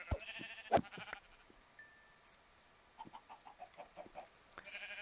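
Minecraft farm animals call out in short bursts, a sharp loud bleat near the start followed by scattered quieter bleats and clucks from nearby sheep and chickens, with a faint tonal chime in the middle.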